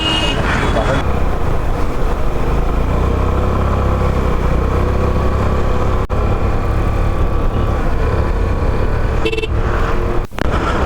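A scooter carrying a rider and pillion passenger drones steadily on the road, with continuous low engine rumble and road noise throughout. A voice talks over it, and there is a brief dropout near the end.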